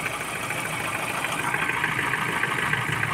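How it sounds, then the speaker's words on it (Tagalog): A Ford Ranger 2.0 engine with low power and a check-engine fault idles unevenly, a steady moderate rumble with a rough, stumbling misfire beat, heard alone without talking. "So kita natin na palyado talaga yung andar, oh."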